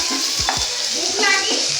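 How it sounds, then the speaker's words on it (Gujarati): Tomatoes and onions cook in a pan, a brief close burst of hissing sizzle with a couple of quick stirring scrapes, alone without talk. "હવે એને બી થોડા ફ્રાય થઈ જવા દઈશું."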